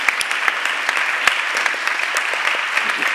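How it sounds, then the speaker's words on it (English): A congregation applauding honored guests at a church service, dense, steady clapping from many hands, fairly loud and close, with no talk over it. "a round of applause"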